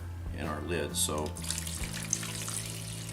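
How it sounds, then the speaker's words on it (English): Water pours from a container into a seed-starting tray for an aquaponics and soil garden, a steady splashing wash that runs under a brief spoken phrase. "I just want to go ahead and pour this entire container in here"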